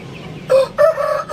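An Aseel chicken close by lets out a few loud, throaty calls in short bursts, separated by brief pauses.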